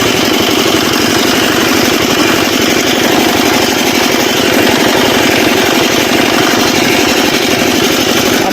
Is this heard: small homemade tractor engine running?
yes